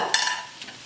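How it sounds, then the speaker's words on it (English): A spoon scrapes and stirs spices and salt through a lamb curry in a pan, one brief scraping stroke with a faint sizzle behind it, close and fairly quiet. "I'm just going to give that a mix."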